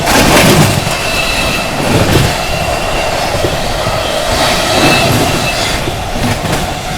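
A Rajdhani Express train running at speed while overtaking another train on a parallel track, loud continuous rail rumble and rattle with periodic clacking bursts and faint wheel squeal.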